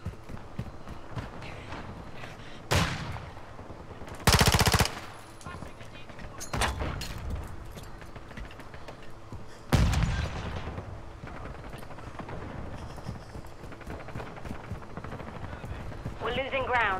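Automatic rifle fire in a Modern Warfare 2 multiplayer match: short rattling bursts and a few loud, close volleys stand out against a steady noisy game background, with a voice talking intermittently.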